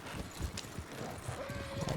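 Horse hooves clip-clopping in the video game Red Dead Redemption 2, a steady trotting rhythm with a faint whinny-like tone among game ambience, no talk.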